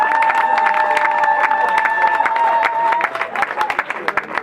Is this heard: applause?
yes